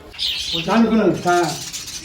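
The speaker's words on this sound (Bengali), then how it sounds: "হ্যাঁ এখানটায় আরও পায়রা আছে" Pigeons in a loft call and coo close by, with soft bird chatter that overlaps voices talking nearby for the whole two seconds.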